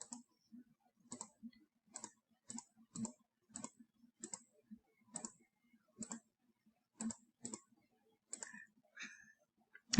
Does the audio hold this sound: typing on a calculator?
yes